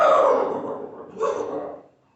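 A person imitates a horse neigh during a kindergarten lesson: a breathy whinny in two bursts, the second shorter, close to the listener and fading at the end.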